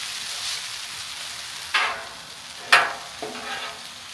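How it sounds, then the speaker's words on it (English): Ramen noodles fry on a Char-Broil griddle in butter with minced garlic, giving a steady soft sizzle. Louder bursts of hiss break in as the noodles are stirred and moved on the hot surface. "And now our ramen noodles. We want them to get almost a little bit of crisp to them."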